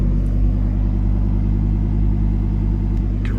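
Deep, continuous engine rumble from a Lamborghini Huracan Evo Spyder idling in Corsa mode, steady and close throughout with no pauses.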